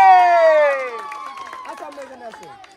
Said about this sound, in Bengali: মহিমার জন্য জোরে তালি